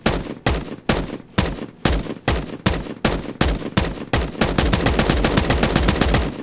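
An M14 rifle with a scope fires in the video game Escape from Duckov, loud close shots in a steady rhythm of about a dozen, then a faster, nearly continuous burst near the end.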